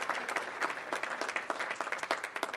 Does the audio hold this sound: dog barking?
no